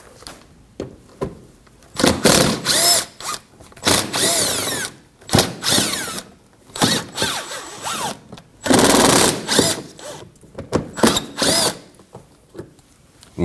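A power tool spins out 5.5mm screws on a Ford Edge in repeated short whirring bursts, each a second or two long, broken by brief pauses and small clicks, close and fairly loud.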